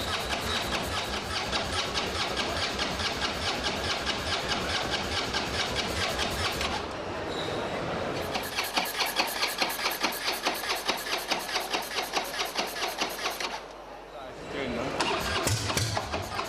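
A custom motorcycle engine being cranked over and over without catching, a steady rapid starter-motor chatter that pauses briefly and resumes, loud and close, with people talking underneath.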